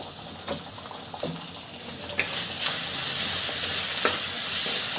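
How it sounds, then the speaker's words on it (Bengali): Tomato, garlic paste and onion frying for a village-style shol fish curry, with a steady close sizzle that swells louder midway. Stirring scrapes sound through it and no one speaks. "রসুন এবং পেঁয়াজের সাথে খুব ভালোভাবে কষিয়ে নিব"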